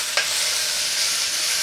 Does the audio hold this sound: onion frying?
yes